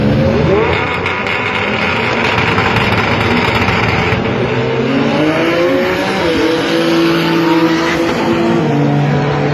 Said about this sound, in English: Scott Lou is in the left lane. Josh in the Honda over there